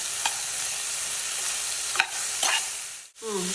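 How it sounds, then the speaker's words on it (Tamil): Chopped vegetables and beans stir-fried in a pan for egg fried rice, a steady sizzle broken by a few sharp spatula scrapes and clinks near the end. "நல்லா சேர்த்து நல்லா வதக்கி விட்டுக்கலாம்."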